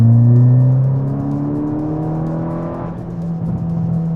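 A VW MK6 GTI fitted with a CTS turbo downpipe accelerates in third gear from about 30 mph at low RPM, a close, loud exhaust drone with layered tones that dips, then climbs again.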